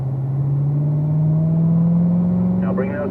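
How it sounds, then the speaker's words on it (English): A race car accelerates out of a corner on track, its engine note rising steadily in a continuous droning whine, with a voice briefly audible near the end. "We unwind and squeeze into that throttle."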